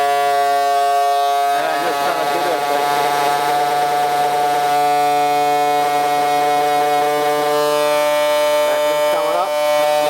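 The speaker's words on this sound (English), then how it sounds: "Now I have a little vibrator thing here." A steady, loud mechanical hum with strong tonal whine runs throughout from a vibrator and vacuum pump working together on lost-wax casting investment, while a person talks over it.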